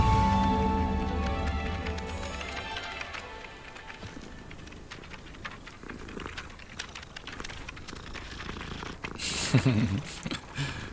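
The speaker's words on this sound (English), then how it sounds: "Oh, we got a cat." A cat purrs in the video game Hogwarts Legacy, a steady close rumble running through the scene alongside light in-game footsteps and ambient sounds.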